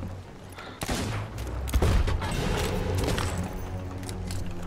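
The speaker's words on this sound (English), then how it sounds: "I'm just using the pistol." Pistol gunfire in the pirate video game Sea of Thieves, a few sharp shots cracking over a busy background of waves, creaking and game noise, moderately loud.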